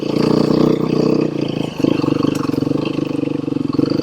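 Beta 390 dirt bike engine roaring steadily up close during a rear-end slide around a rock on a night woods ride, with a brief dip in revs partway through before the loud throbbing picks back up.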